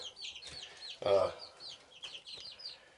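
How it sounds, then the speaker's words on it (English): Baby chicks peep in quick, high bursts inside a warm barn room, close and fairly soft, with one louder, lower cluck-like call partway through. "I got my little baby chicks in here"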